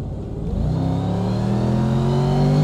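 A supercharged Mercedes-McLaren SLR engine accelerates hard, its loud, steady engine note climbing smoothly in pitch for a few seconds with no talking over it.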